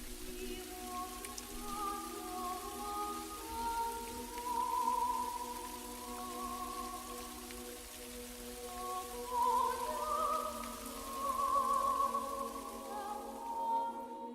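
Steady rain falls in the open, a soft continuous patter of drops with a few brighter tonal sounds drifting over it, moderately near and even in level throughout.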